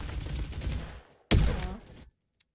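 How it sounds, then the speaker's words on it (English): A gunfire burst from the Ithaca DB shotgun in the video game Bad Business, rapid close shots then a sharp, loud blast that trails off, ending with a faint click. "This is just gonna be the gold Steven Stevie trick shot last"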